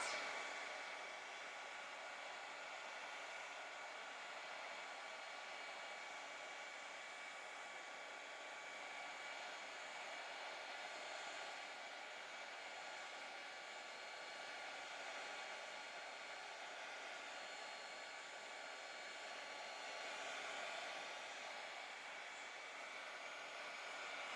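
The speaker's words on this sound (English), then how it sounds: "I move the heat gun to the next spot" A heat gun blows hot air onto a steampunk-style spellbook cover in a steady, faint whooshing hiss that continues unbroken with no talk.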